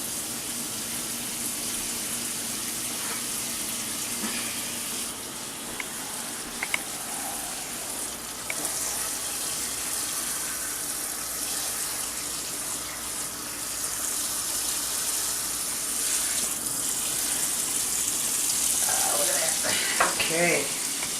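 Cold tap water runs in a steady, moderately loud rush to soak cut potatoes for homemade fries, continuing unbroken throughout with a brief splashing change near the end.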